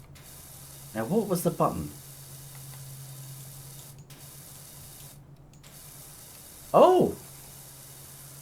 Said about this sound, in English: If I press the right mouse button, it just has it permanently on spray